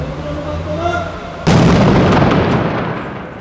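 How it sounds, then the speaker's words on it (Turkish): A suspicious object left at a curbside is detonated by bomb disposal experts using a detonator: a single sharp loud blast partway through, decaying into a long rumbling roar, with a steady hum and murmur beforehand. "bomba imha uzmanlarında olay yerine gelmesinin ardından cisim fünye ile patlatıldı"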